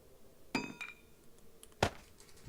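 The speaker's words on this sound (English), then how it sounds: "So I'm going to hammer down a tree because I constantly don't have enough wood." A tree is hammered down in the video game 7 Days to Die, with two separate sharp clinking impacts about a second apart over quiet game ambience.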